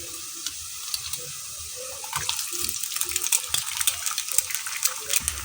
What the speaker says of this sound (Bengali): পেঁয়াজ কুচিটা কিছুটা ভেজে নেব।